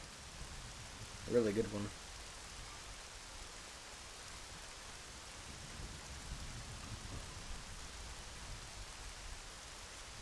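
A rainstorm in the video game The Legend of Zelda: Majora's Mask, a faint steady hiss of rain that runs throughout, with a brief voice speaking near the start.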